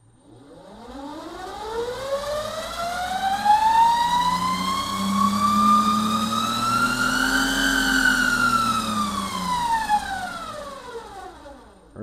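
Regenerative braking on a 1988 Lotus Esprit electric conversion gives a loud, clear whine that rises in pitch, holds, then falls away over several seconds, with no talking.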